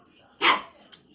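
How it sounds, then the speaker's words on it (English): A hungry dog gives one sharp, loud bark close by while its owner eats, followed by a faint softer yip. "So she barking because she see me eating."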